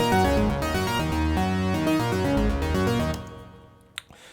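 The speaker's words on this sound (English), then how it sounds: "If I take out the amp, it's going to sound like this." The default patch of the ES2 synth in Logic Pro, played with no amp effect, plays a bright, buzzy run of quick synth notes that stops abruptly and leaves a brief faint tail with a couple of small clicks.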